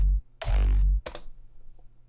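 Crunchy, distorted kick drum shaped with Fruity Waveshaper and pitched down. Two heavy, booming hits come in quick succession with gritty overtones, followed by a brief click and a quiet tail.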